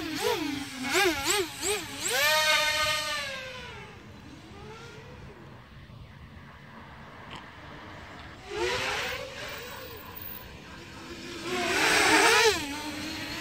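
A quadcopter drone fitted with EpicRC 3200kv motors, 30A LittleBee ESCs and a 4S battery revs hard during a burnout, its motors whining up and down in pitch in sharp surges, easing to a low steady hum, then climbing again loudly near the end.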